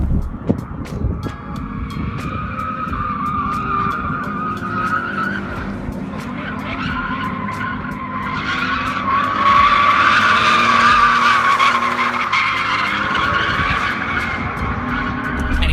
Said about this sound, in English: So you're getting a lot of wheel spin and a decent amount of wheel speed through those tires.